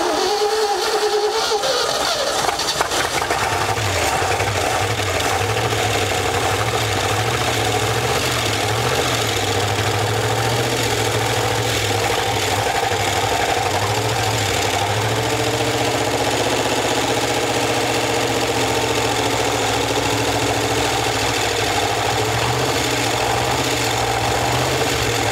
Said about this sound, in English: Try to crank it again, see what it does.